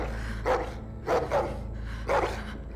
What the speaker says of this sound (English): No, don't you dare make me kill the dog.